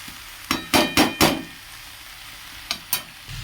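Kashmiri red chili stirred into a pan of cooking spices, a spoon scraping in a few distinct bursts, three close together and then two more after a pause, with a faint sizzle underneath.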